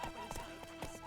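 The horse Roach from The Witcher 3 walks with soft, rhythmic hoof clops against a steady, quiet game background, with no talk.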